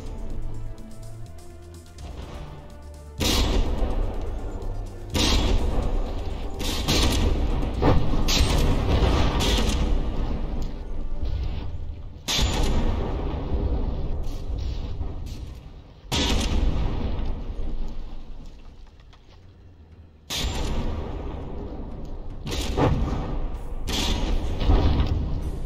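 Heavy battleship guns boom again and again in From the Depths, their shells slamming into an armored hull. Big broadband blasts come in bursts, separated by brief lulls and a low rumbling bed of mechanical noise.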